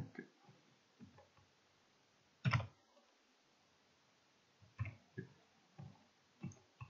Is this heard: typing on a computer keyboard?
yes